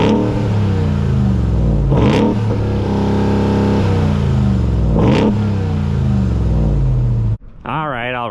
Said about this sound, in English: And we're going to do some revs.